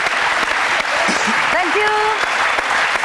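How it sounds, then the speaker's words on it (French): Studio audience applause on a French television talk show, loud, dense and continuous for the whole stretch, with a host's voice speaking over the clapping. "On vous applaudit."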